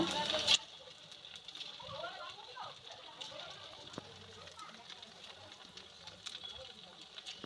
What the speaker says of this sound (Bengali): এইভাবেই সব কুরকুরেগুলো ভেজে নেব